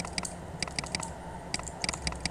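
Keys on a mechanical keyboard, including the numpad plus and minus and the Enter key, are pressed one after another while being tested for double-click faults, making crisp, close clicks in quick, uneven bursts.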